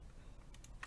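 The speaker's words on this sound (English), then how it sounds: "I'm just going to type that here" A few quiet, sparse keystrokes on a computer keyboard as a password is typed, faint clicks over a low background hum.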